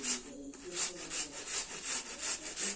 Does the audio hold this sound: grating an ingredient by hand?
yes